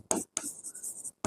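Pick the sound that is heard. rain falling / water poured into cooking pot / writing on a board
writing on a board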